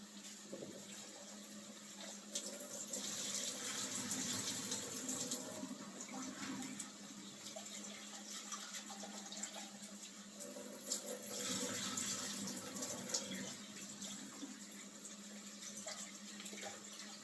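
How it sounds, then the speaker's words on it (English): Tap water pours and splashes steadily into a kitchen sink as saltfish is rinsed under it, a continuous faint rushing with slight swells. "so I'm just gonna rinse this here. And rinse the saltfish off."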